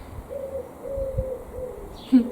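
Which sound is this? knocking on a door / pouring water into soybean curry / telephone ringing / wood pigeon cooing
wood pigeon cooing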